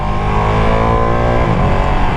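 A Ducati Panigale V2 motorcycle's engine on its first ride, a loud, steady, close engine hum with a dense harmonic drone that wavers slightly as the revs shift.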